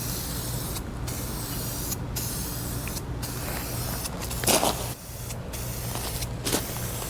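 A rattle can hisses steadily as it sprays paint onto the side covers of a 1979 Honda CB750K, one continuous close spray broken by several brief pauses between passes.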